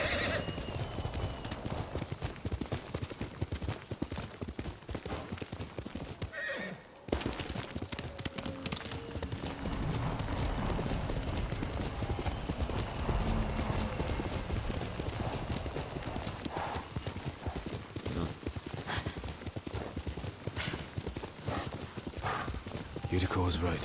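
Hooves clip-clop rapidly as a horse gallops in the video game Ghost of Tsushima, a steady rhythmic pounding with occasional whinnies, loud and close, with character voices and game sounds mixed in.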